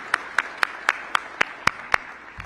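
Eight evenly spaced sharp claps, one person clapping alone at a steady moderate pace, close and crisp against a quiet background.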